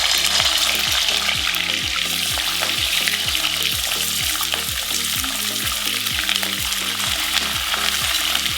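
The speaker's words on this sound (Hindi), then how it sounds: "हम चिकन फ्राई करने जा रहे हैं और खूब तेज आंच में इसको फ्राई करना चाहिए।" Chicken frying in hot refined oil over a high flame, a loud, steady, dense sizzle that fills the whole stretch with rhythmic bubbling and no voices.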